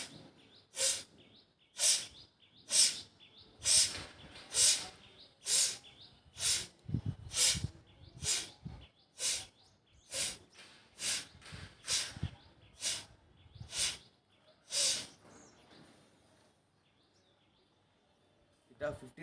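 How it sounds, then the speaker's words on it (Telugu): Forceful rhythmic nasal exhalations during jala neti nasal cleansing, about twenty sharp bursts at a steady pace, close and fairly loud, then a short quiet stretch. "గట్టిగా శ్వాస ఇన్హేల్ ఎక్సెల్."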